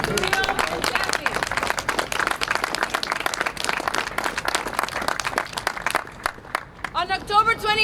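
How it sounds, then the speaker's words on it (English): Audience at a student rally on a college campus breaks into sustained, dense clapping and cheering that carries on for several seconds before thinning out near the end, when voices come through. "An applause for Khalil and Taffy."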